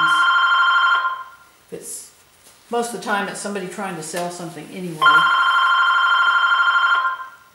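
A telephone rings indoors with a steady electronic trill, about a second of ringing, a pause while someone talks, then another long ring that carries on loudly by itself.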